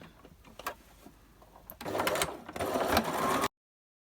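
A sewing machine stitching vintage-style paper rose tags, with soft clicks at first, then two steady, close, whirring runs of stitching that stop abruptly.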